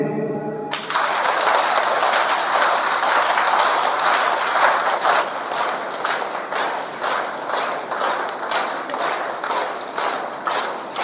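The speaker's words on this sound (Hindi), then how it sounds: "ऊपर ताली बजाएंगे।" A school audience clapping together at a moral education session, a sustained loud burst of many hands that starts abruptly and continues steadily to the end.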